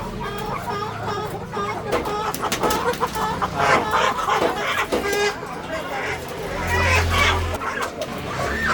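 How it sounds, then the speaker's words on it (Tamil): Many native chickens cluck and squawk close by in a busy crowd, packed inside a crowded shop in Bengaluru, with a voice talking over them and a brief low rumble. "நாட்டுக்கோழி பாருங்கள் உள்ளே நிறைய அடைச்சி போட்டிருக்காங்க"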